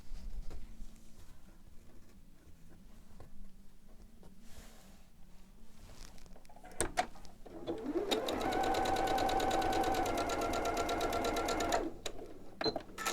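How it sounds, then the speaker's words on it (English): A sewing machine stitches fabric pieces along a marked line for a quilted springtime table runner, a steady fast whirring run of about four seconds after quieter handling sounds, close and alone with no talk. "I'm going to sew on the line."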